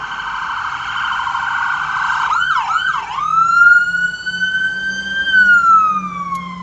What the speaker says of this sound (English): We'll let this ambulance go by.